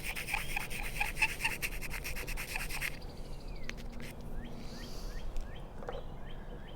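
Sandpaper rubs rapidly in quick repeated strokes across the edge of a glass turkey call and its striker, a close dry scratching that gives way to softer scattered scrapes, no talking.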